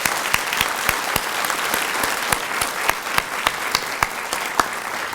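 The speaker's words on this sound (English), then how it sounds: "If we could get one more round of applause for the group." Steady applause from an audience at an elementary school awards ceremony, many hands clapping together with a few sharp individual claps standing out, continuous throughout.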